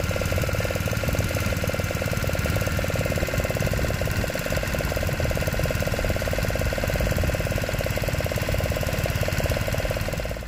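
A tourist boat's engine runs steadily on the ride to Talsari beach near Digha, a loud, continuous knocking throb with rough vibration that holds unbroken for about ten seconds, with no voices.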